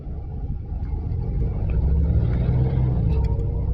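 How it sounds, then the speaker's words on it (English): Steady low rumble inside a moving bus, a constant engine and road drone that swells slightly and carries on without talk. "I'm on the bus to work right now."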